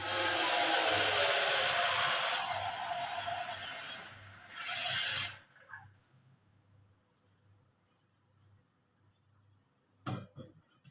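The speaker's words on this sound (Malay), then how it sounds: "pastikan air ni mendidih, baru kita masukkan spaghetti yang hendak direbus" Loud, steady hissing roar of water boiling in a pot before spaghetti goes in, for about five seconds, then it stops abruptly, leaving near silence and a faint clink.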